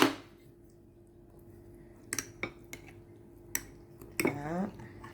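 Fermented vegetables being served from their brine onto a plate with utensils, a few sharp clinks and scrapes of metal on dishware after a quiet stretch, close up, with a soft ring at the end.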